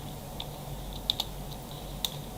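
Typing on a computer keyboard, with light scattered key clicks at an irregular pace over a steady background hum, close and fairly quiet.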